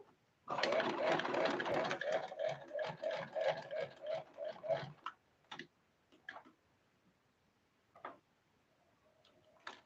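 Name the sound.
sewing machine stitching an Ankara fabric head dress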